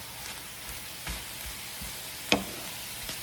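Sauce of sugar, garlic and ginger cooks in avocado oil with onions, giving a soft, steady sizzle with a few faint stirring clicks and one sharp utensil tap near the pan.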